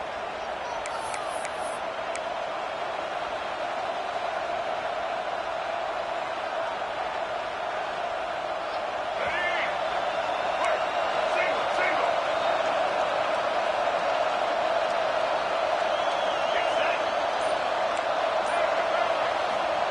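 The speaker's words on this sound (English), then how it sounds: "with this place rocking, the crowd forces a false start" A packed football stadium crowd roars steadily throughout a Browns versus Bengals game, a dense, loud wall of noise with a few whistles and shouts rising out of it.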